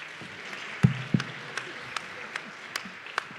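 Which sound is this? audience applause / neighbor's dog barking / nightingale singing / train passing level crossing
audience applause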